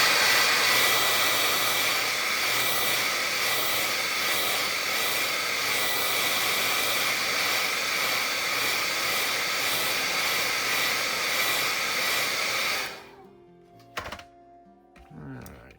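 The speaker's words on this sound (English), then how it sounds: "I'm just gonna dry this down a little bit" A hair-dryer-type blower drying paint on a painting runs as a loud, steady whooshing hiss for about twelve seconds, then cuts off, followed by a few faint knocks and handling sounds.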